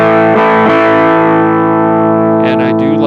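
Electric guitar through a Red Plate Blackloop amp with the drive turned up, a boost pedal in the chain: a loud, continuous distorted chord ringing out with sustain, re-struck a few times, with a brief strummed flourish near the end.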